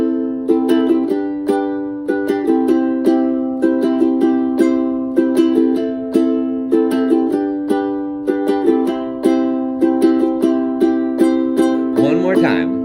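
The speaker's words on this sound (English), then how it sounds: "how to strum the ukulele nice and even with a fluid hand" A ukulele is strummed in an even, steady rhythm, the chord shapes shifting every so often, ending with a brief vocal sound.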